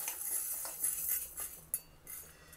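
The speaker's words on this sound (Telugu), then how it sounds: "ఇప్పుడు ముందు మినపప్పు వేయిస్తున్నాను ఇది మధ్య మధ్యలో కలుపుతూ మీడియం ఫ్లేమ్లో పెట్టుకుని కలుపుతూ ఎర్రగా వేయించుకోవాలి" Urad dal roasts in a pan on medium flame while a spoon stirs it, giving light scraping and a few clinks of metal against the pan, close and faint, with no talk.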